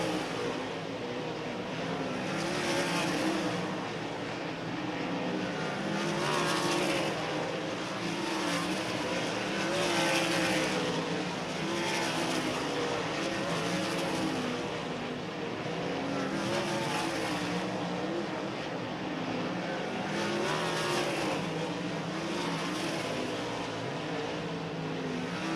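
Sprint cars roar around the oval at Bridgeport Motorsports Park during the final hot lap session, a loud continuous engine drone that swells and fades in waves as the cars pass, heard from near the track without pause.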